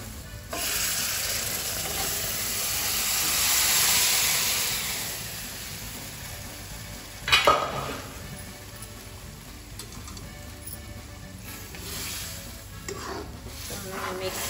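Cooked vegetables stirred into fried spices in a pan for pav bhaji, a steady close sizzle and scraping stir running throughout, with a sharper clatter midway.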